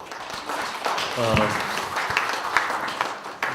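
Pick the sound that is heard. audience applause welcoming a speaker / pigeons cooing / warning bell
audience applause welcoming a speaker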